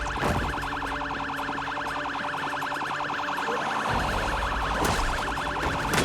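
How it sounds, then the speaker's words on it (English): A police car siren wails loud and close in the Project Zomboid video game, sounding continuously as a rapid warbling yelp, with a low engine rumble underneath. "Siren's gonna make it hard to hear sprinters if they come up behind me, too."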